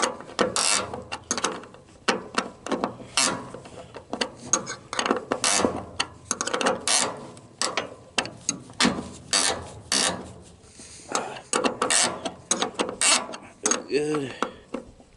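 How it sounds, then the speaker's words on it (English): Ratchet wrench turning a bolt, a long run of sharp, close clicking strokes in quick irregular bursts with short pauses, loud and alone throughout. "Get the wrench."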